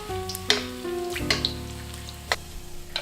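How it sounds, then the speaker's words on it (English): Whole eggplants fry in oil, sizzling and crackling softly and steadily, with a few sharper pops and a faint low hum, and no voices. "Fry each one for about 1 minute."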